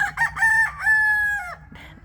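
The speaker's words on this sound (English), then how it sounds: "It's my candy corn rooster." A candy corn rooster crows once, loud and close, with a drawn-out, wavering final note over faint background noise.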